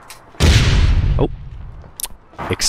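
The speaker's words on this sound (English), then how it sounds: "Explosion." A video game explosion in APB Reloaded bursts suddenly, a loud booming blast that rumbles and decays over about a second, followed by a few sharp fainter bangs.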